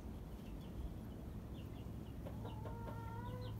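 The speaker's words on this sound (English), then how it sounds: "And there's the chicks, some of them." Hens and chicks in a coop, faint soft clucks and small peeping calls scattered over a low background hum, fairly distant and quiet.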